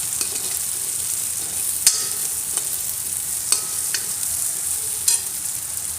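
Steady sizzling of finely chopped garlic frying in a hot pan, with occasional sharp clicks and scrapes of a utensil stirring.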